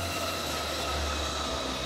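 Freight train hauling Australian-made steel across the Nullarbor, a loud continuous rumble and roar of rolling cars with steady wheel hum and no break, close by and alone.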